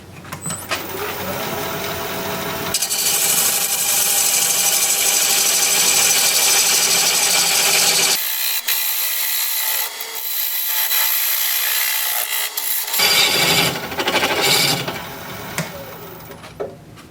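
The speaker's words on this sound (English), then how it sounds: "I will take this down with my parting tool and then just keep on going right on through there to" A parting tool cuts into wood turning on a lathe while shaping a log into a vase, giving a steady, loud, rasping scrape that drops out in the middle and then returns.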